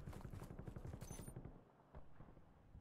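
Distant gunshots in Call of Duty Black Ops 6 Warzone, a quick rattling string of shots that fades out, followed by a single softer report, all faint and far off.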